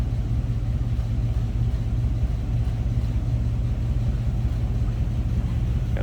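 A 1950 Chevrolet Deluxe convertible with an inline six-cylinder engine idles in neutral, giving a steady, close, low rumble that holds an even pulse throughout, with no voices over it.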